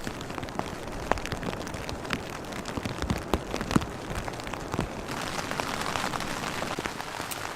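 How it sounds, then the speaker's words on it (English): Continuous rain falls and splashes nearby, a full even hiss dotted with heavier individual drops, with no talking. "It has been raining all night, and it is 7 o'clock now, and it is still raining."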